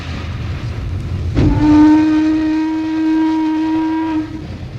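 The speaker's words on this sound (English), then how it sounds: "the clickety-clack of the wheels on the track" A steam locomotive on the rails gives one long, steady whistle blast over a low rolling rumble, loud and close, fading as the tone ends.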